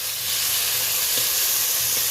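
Ground spices (coriander, turmeric, Kashmiri red chilli) frying in a pan with fried onion and tomato, a steady close sizzling hiss throughout with faint stirring, no voices.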